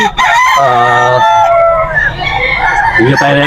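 A rooster crows repeatedly at a crowded chicken market, loud close calls in quick succession with other fowl and people talking in the background.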